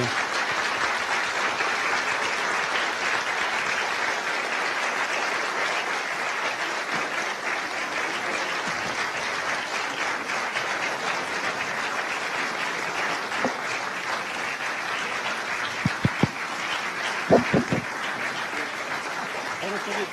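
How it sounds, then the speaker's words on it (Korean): Sustained audience applause greets a presidential candidate entering a town hall meeting with science and technology workers, a steady wash of clapping across the whole stretch with a few sharper individual claps near the end. "여러분 그 박수로 큰 박수로 좀 환영해 주십시오."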